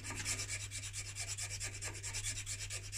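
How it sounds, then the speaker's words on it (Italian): A hand file rasping a bike stem in regular back-and-forth strokes, about five per second, close and steady over a low hum, with no talk. "stamattina uso la lima"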